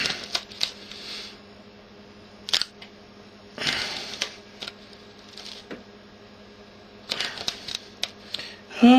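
Adhesive tape pulled off the roll and wrapped tightly around a stove seam, heard as a few loud tearing rips and crinkly handling noises separated by quiet stretches, close up and with no talking.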